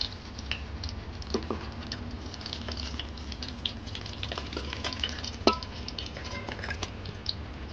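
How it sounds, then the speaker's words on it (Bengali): Bitter gourd frying in oil left from hilsa fish in a pan crackles with a dense, steady sizzle, scattered pops and occasional scraping stirs, close and moderately loud with no talking. "ইলিশ মাছ থেকে অনেক তেল বেরিয়েছে, তো এই তেলে আমি উচ্ছাগুলো সমড়ে নিচ্ছি।"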